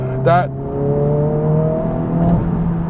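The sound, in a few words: turbocharged car engine accelerating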